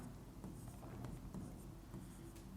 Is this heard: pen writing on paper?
yes